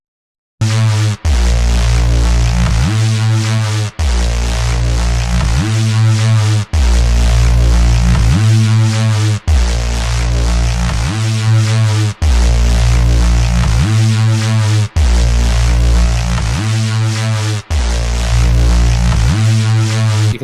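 A heavy dubstep synth group blended with a compressed, sidechained sub-bass effects channel, pounding loud and alone in repeating bars with deep booming low end and gritty midrange wobble.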